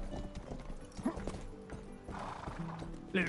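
A horse in the video game Rustler whinnies and clops its hooves along, the neigh rising clearly over a rhythmic clip-clop and game background, with faint talk.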